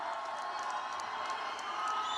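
A large political rally crowd in Reno, Nevada cheers in a continuous, dense wash of voices and applause, heard from a distance without a break.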